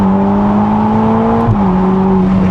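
A Ferrari Roma Spider convertible engine holds a steady, loud drone under hard acceleration that dips slightly in pitch midway, with continuous road and wind noise underneath.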